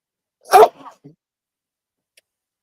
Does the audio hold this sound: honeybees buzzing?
no